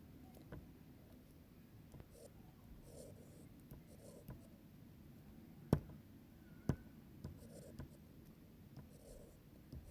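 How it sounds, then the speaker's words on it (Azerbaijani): A triangle being drawn during a geometry lesson, heard as soft, faint scratching strokes of a writing tool under a quiet room hiss, with two sharper taps partway through. "bir dənə ABC üçbucağı çəkirəm"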